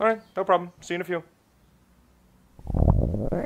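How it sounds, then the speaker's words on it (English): A stomach rumbles loudly in a long gurgling growl that builds near the end, following a short stretch of speech and a quiet pause. "Was that my stomach?"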